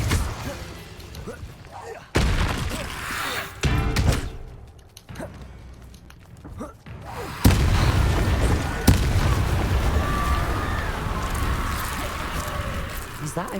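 An Incendio fire spell cast in the Hogwarts Legacy video game, heard as several loud booming bursts with sudden whooshing onsets. Game ambience and voices are present between the blasts.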